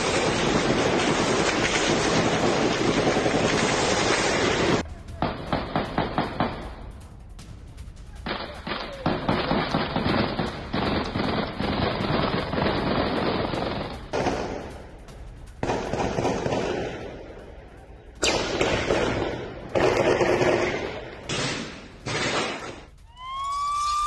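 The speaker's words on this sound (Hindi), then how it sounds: "फायरिंग की आवाज आप सुनिए।" Gunfire and cross-firing during an anti-terror operation in Russia form long, dense stretches of rapid shots with brief gaps. A rising siren-like tone comes in near the end.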